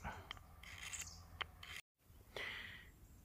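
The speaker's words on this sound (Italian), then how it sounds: "Questa è una tecnica di levigatura del legno con stesso la lama del coltello." Sharp knife blade scraping and smoothing a piece of wood for a bushcraft incense holder, heard as several short rasping strokes at close range, with a brief silent gap midway.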